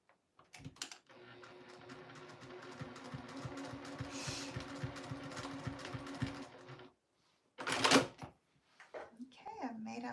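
A sewing machine runs steadily for several seconds while stitching around a project, close and even, then stops; a short burst of handling noise and a voice follow.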